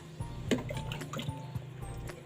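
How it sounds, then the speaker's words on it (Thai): Pickled bamboo shoots being rinsed in water before cooking with fish: soft, quiet splashing and dripping, with a few brief wet sloshes over a low steady background. "นี่หน่อไม้ส้มเราต้อง เราต้องล้างก่อนนะคะ"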